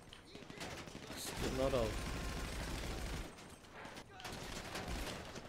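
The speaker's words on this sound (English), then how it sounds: "A Tommy gun!" A Tommy gun fires continuously in GTA V, its dense rattling volley steady and loud throughout, with a few short pauses. People talk over the shooting.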